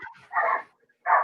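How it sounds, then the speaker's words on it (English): Dogs bark in the background during a politics discussion, two loud, close barks separated by a short pause, with a smaller yip just before. "do you have dogs in your background?"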